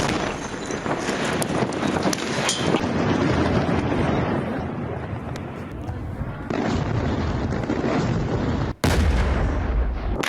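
Bombing and artillery fire on a town in Lebanon, heard as a continuous loud, rumbling barrage of blasts and wind-buffeted booms, with an abrupt cut near the end into another heavy burst.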